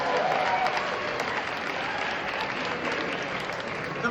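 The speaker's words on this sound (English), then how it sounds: "I want you to give yourselves a round of applause for raising so much money tonight." A gala audience claps together in a sustained, dense burst of applause that stays loud and steady from start to finish, with no voices heard over it.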